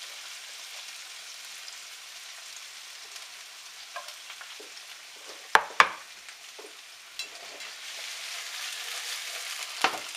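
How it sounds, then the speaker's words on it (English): Ingredients for Spanish rice sizzle steadily in a pan, a soft continuous frying hiss punctuated by a few sharp scrapes and knocks of a utensil stirring. "so start sauteing them up"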